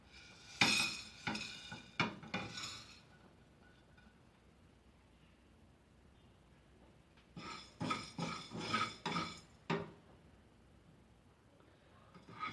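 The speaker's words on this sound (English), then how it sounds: "I'm going to dry roast them and then powder them" Whole spices such as cumin and coriander seeds are dry roasting in a pan. A utensil clinks and scrapes against the metal in two short bursts of stirring, separated by a quiet gap, close and fairly soft.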